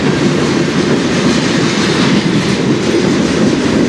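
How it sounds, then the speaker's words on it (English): A CN freight train on the Strathroy Subdivision rumbles past up close, loud and continuous, with clickety-clack of wheels over rail joints as it slows. "The train is slowing down enough now"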